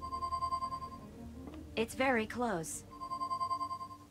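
A Pi-phone rings in Leisure Suit Larry: Wet Dreams Dry Twice, a steady electronic trill that pulses near and clear, pausing while a voice speaks briefly over it, then resuming.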